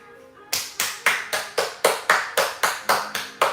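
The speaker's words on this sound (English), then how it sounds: "Round of applause." One person claps about eleven times in a steady, even rhythm, close and crisp, with no talk over it, during a home workout session.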